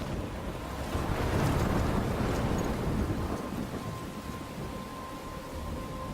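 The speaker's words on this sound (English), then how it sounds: "I'm trapped in a storm?" Thunderstorm with rain in the video game Life is Strange, a heavy rumbling roll of thunder over dense wind and rain noise, loud and sustained, with no voices.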